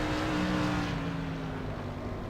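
Jim Vig's number 17 360 sprint car at Lanier National Speedway in a sim racing game, with a TK Racing engine, drones steadily as a sustained engine note, pitch sagging slightly as the car moves away.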